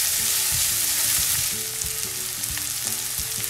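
Turmeric and asafoetida being stirred in a frying pan while preparing kande pohe, a steady hiss of frying with scattered scraping and tapping of the spoon against the pan, close and continuous, no voices.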